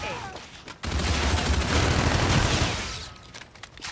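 Dense gunfire crackles in Call of Duty Infinite Warfare during domination multiplayer, a loud sustained fusillade of rapid shots lasting a few seconds before fading to quieter game sounds.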